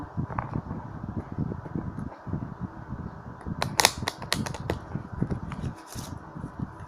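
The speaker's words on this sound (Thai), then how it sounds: "และขอซับไพ่ต่ออีกนะคะ" Tarot playing cards being shuffled by hand, with soft repeated riffling and a few sharper snapping bursts near the middle, close and moderately quiet, no talking.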